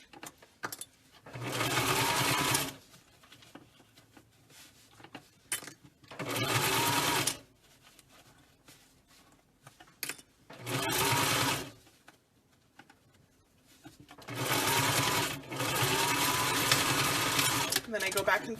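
A sewing machine stitches a fabric face mask seam in several loud bursts of rapid whirring, one running longer at the end while it backstitches to reinforce the seam, with quiet gaps of fabric handling between runs.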